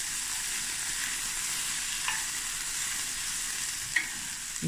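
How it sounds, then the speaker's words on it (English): Ostrich mince and baby spinach sizzle steadily in a pot on a Faber stove, with a couple of soft scrapes from a spoon stirring through the mixture, close and continuous. "Give it a stir."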